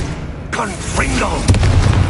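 A fiery Confringo spell blast bursts in the Hogwarts Legacy video game, a loud booming explosion layered with crackling game effects and a voice shouting over it.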